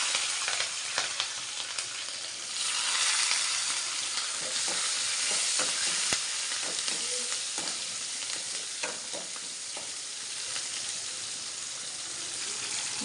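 Cumin, mustard seeds, dried and green chillies, curry leaves and onion fry in oil for a brinjal-tomato chutney, with steady close sizzling and frequent scraping stirs throughout.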